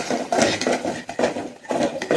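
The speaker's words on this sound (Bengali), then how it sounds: "মালাইকারিতে এখন আরও কিছুটা দই দিয়ে দেওয়া হচ্ছে টেস্টের জন্য।" A spoon adding curd to malai curry in a pot, giving a series of soft, close scraping and clinking strokes against the metal in an uneven rhythm, with no voices.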